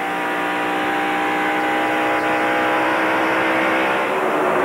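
A race car at the 1993 Splitfire Spark Plug 500 roars as it accelerates away, a loud, sustained engine wail with crowd and track noise behind it, no talk over it.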